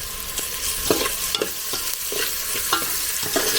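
Mutton stirred with coriander powder in a pot over a wood-fired stove: a close sizzle under repeated scraping spoon strokes in a loose, uneven rhythm, with no one speaking.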